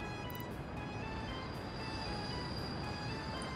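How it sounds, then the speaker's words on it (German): A metro train runs through a tunnel in Workers & Resources: Soviet Republic, a quiet, steady rumbling rail drone with faint wheel hiss and a few soft clicks, continuous and distant. "hier, da ist die Metro. Da fährt sie."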